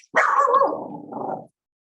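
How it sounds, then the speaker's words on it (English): A dog gives one drawn-out, loud bark that trails off into a growly tail, heard close and alone against silence. "I hope that's my dog barking"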